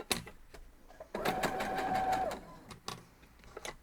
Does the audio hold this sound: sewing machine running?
yes